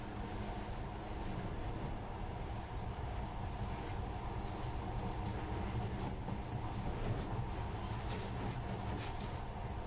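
A monorail train in the video game Metro Last Light gives a steady rumbling ride with a low drone and faint rhythmic clatter that holds evenly throughout at moderate loudness.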